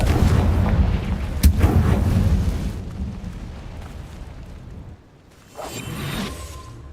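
The Confringo fire spell blasts in the Hogwarts Legacy video game, a loud booming explosion with rumbling whoosh that fades over a few seconds, followed by a second softer burst.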